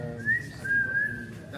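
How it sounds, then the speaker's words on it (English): A person whistles a short, clear tune of two sustained notes up close, with faint room noise behind it at an electronic music open mic night in Sydney. "I can whistle."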